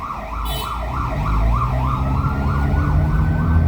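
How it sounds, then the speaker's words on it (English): An ambulance siren wails, rising and falling in a steady, repeating cycle, loud and close, over a low rumbling background on a rainy city street. "Ambulance, police."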